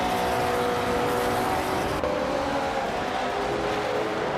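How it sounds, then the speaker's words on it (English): A 1970 Ford Mustang Boss muscle car in a racing video game holds a loud, steady engine drone with tonal harmonics, then drops briefly in pitch and level about halfway through before continuing. "The muscle car known for its powerful engine and aggressive styling."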